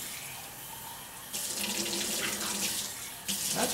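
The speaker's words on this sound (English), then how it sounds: "And then I'll get my water from my sink as hot as I can get it out of my hot water heater." Hot water running from a sink tap, a hissing stream that starts softly and then gushes louder, with a brief surge near the end.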